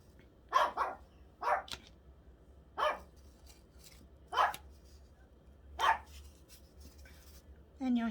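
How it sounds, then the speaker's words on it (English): Several sharp dog barks ring out at irregular intervals, fairly close, with a faint steady hum underneath. "And you'll hear the dogs."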